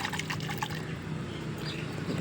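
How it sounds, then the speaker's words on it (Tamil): Water poured over black tulsi leaves to wash them, a continuous close splashing trickle with faint clinks and a low steady hum beneath, no one speaking. "தண்ணி ஊற்றிட்டு வந்துடலாம் இதே தண்ணி இதுலேயே ஊற்றிருப்பேன்"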